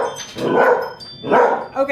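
A dog barking nearby: two loud, separate bark bursts about a second apart, then a shorter yelp at the very end.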